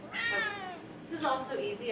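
A house cat lets out a drawn-out screeching meow that rises and falls, close to the microphone, while someone talks briefly over and after it.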